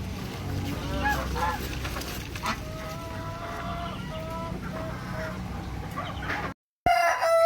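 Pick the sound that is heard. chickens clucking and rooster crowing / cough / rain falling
chickens clucking and rooster crowing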